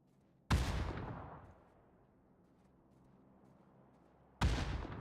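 Two loud grenade blasts in a video game boom several seconds apart, each a sharp, heavy explosion with a rumbling decay, with a low, quiet background between them.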